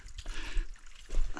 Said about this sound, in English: There is flowing water right here.